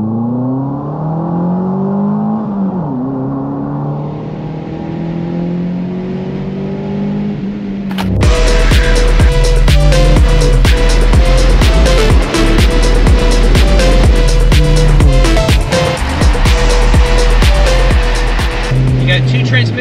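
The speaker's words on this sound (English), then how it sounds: "She don't accelerate fast, but she makes good noise when she does." Mini Cooper R56 with a six-speed manual, windows down, revs hard and accelerates: a loud, raspy engine note climbing through the gears, with brief dips at each shift, after a quieter stretch of cabin drone.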